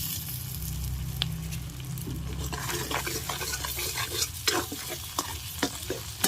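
Tomato and poppy seed paste with cumin paste and spice masala sautéing for a giant prawn malai curry, with a steady close sizzle and repeated spatula scrapes and clicks building through the second half over a low hum.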